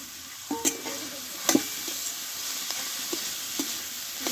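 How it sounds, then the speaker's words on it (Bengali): Boiled potato mashed and stirred into softened cabbage in a pan for a cabbage paratha filling, giving a soft steady sizzle with a few sharp scraping knocks of the spatula against the pan. "কপির সঙ্গে ভালোভাবে আলুটাকে আমি কষে নেব"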